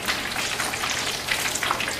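Battered shrimp deep-frying in hot oil, a close, steady crackle and sizzle of bubbling batter with no voices.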